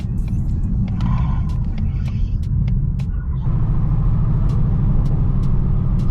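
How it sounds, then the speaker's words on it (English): A Ford Mustang GT350's engine rumbles loud and steady close by, with a series of short, sharp pops and crackles from the exhaust scattered over the deep drone. "Dude, the thing backfires."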